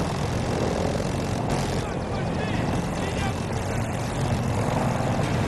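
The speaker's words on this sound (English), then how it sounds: "we got a helicopter" Helicopter in the video game Battlefield 2042, a continuous loud rotor and engine roar with rumbling low end that stays constant throughout.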